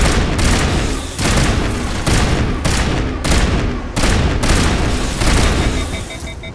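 Repeated rifle shots from Mass Effect Legendary Edition ring out in a loud, steady rhythm of roughly a dozen rapid, evenly spaced cracks, each with a booming low tail, with no voices over them.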